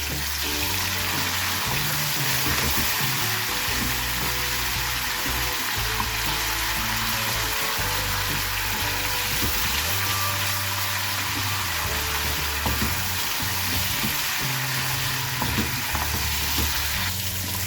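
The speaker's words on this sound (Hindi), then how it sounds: "मैं डाल रही हूँ जीरा, सिर्फ जीरा, ताकि ये भी थोड़ा सिजल कर जाए" Cumin seeds sizzling in hot oil in a pan, a loud, dense, continuous crackle and hiss that stays steady and close throughout, with no voices.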